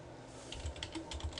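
Credit card details being typed on a computer keyboard, a short burst of quiet, quick key presses in an irregular rhythm.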